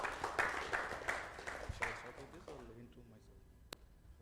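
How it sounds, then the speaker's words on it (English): Audience applause during a public speaking boot camp session, a burst of clapping with regular loud claps over the first two seconds that thins out and fades into near silence, with a single sharp clap near the end. "Let's give them a round of applause."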